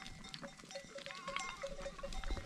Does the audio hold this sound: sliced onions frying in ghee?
no